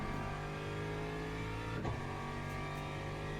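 Aston Martin GT3 race car engine in the Le Mans Ultimate sim at Fuji, a steady loud droning roar with a brief shift-like dip midway before the engine note resumes.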